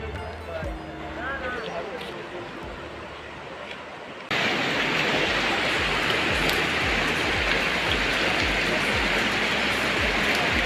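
Loud, steady roar of a rushing mountain stream below a road near Soq Valley, Skardu, Pakistan, the first few seconds quieter and distant before the full broadband rush takes over with no letup.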